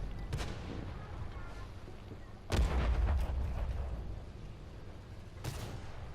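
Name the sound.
artillery shells firing and exploding in video game World of Tanks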